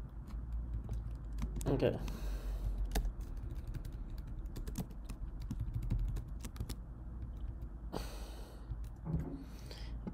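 A computer keyboard is typed on while code is written, with quick, irregular, close clicks throughout, a few louder bursts and breaths in between, and a single brief spoken word.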